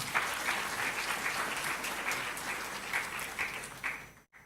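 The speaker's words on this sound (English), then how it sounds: "a big round of applause for you all" An audience at a management institute orientation applauds steadily in a hall, with dense clapping sustained throughout before it stops abruptly at the end, with no speech.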